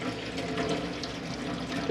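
Hot water runs from the kitchen tap of a Lunar Goldstar motorhome, a steady, close splashing stream into the sink that continues evenly throughout.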